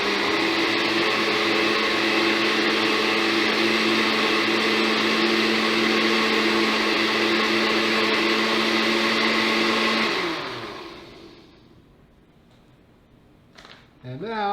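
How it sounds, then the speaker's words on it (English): A blender whirs steadily and loudly while blending homemade hot sauce, then spins down to silence at the end, with a brief clatter after it stops. "Let's run it through the blender a little bit more."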